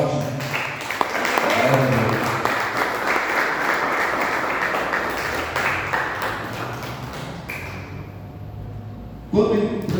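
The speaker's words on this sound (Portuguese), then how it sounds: "Aplauda o Senhor bem forte." A church congregation applauds during a unity celebration service, loud mixed clapping with voices in the room, thinning and cutting off near the end before a final sharp thump.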